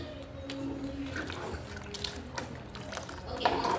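Water trickles and splashes softly into a cooking pot of pepper for country chicken curry, with faint drips and kitchen clatter at a low level.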